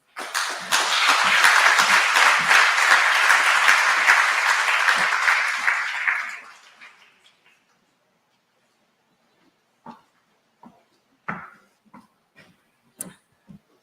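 Loud applause from a crowd for about six seconds, then fading out, followed by a few scattered soft knocks and thumps in near silence.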